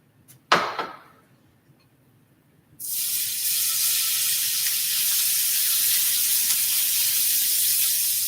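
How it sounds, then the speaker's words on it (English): A sharp hit of food landing in a hot skillet, then a loud, steady sizzle that fills the rest of the clip with bright hissing. "you all can hear the sizzle, so that means it's hot"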